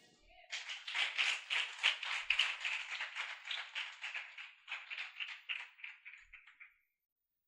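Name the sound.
congregation applauding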